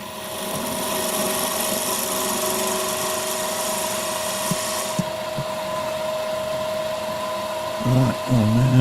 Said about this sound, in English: Using the 4/8 hole gouge just to get some shape on the base there.